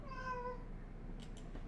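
A cat gives a single clear, tonal meow indoors, quiet and close, followed by a couple of faint clicks.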